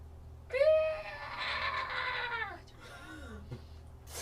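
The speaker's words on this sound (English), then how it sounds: "The screams continue." A screaming sound effect plays during a tabletop roleplaying game session: one long, loud, wavering wail that rises and falls, followed by a shorter, fainter cry and a brief knock.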